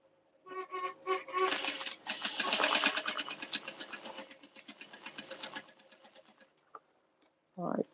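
A sewing machine runs in a steady rapid stitching burst while hemming a curved shirt-tail edge on a garment, rising to a dense mechanical chatter and slowing to a stop, with a brief voice at the end.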